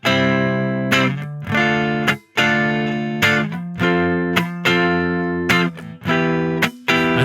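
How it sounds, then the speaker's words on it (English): Distorted electric guitar plays plain major and minor chords in rhythmic strummed bursts separated by short muted gaps, loud and up front, with no voices. "Let's hear the difference if that was just major and minor."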